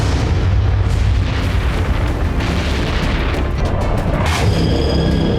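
Heavy, sustained booming blasts from bombs dropped by the US on Iran's Fordow nuclear enrichment plant, a continuous loud rumbling roar with no talk over it.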